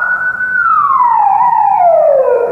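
A siren on an armored vehicle gives one loud, steady wail that holds its pitch for a moment and then glides slowly downward, sounding alone with no talk.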